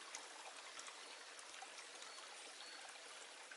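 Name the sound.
flowing stream water in woodland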